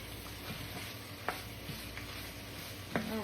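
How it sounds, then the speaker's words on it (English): A spoon stirring spices into spaghetti sauce in a pan on the stove, a steady low sizzle with occasional soft scrapes and clinks against the pan. "let me just stir these spices in"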